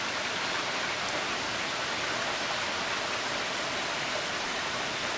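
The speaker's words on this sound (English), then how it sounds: "The rain today has been intense." Steady, heavy rain pours down in a dense, continuous hiss from start to finish, with no voices.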